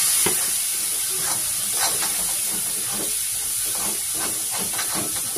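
Water is poured into a hot pan of frying chicken masala, setting off a loud, continuous sizzle and steamy hiss with bubbling bursts throughout, no one speaking.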